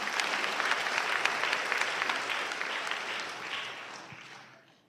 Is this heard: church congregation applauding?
yes